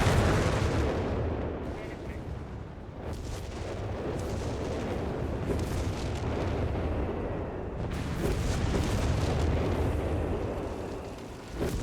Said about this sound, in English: And more bombardments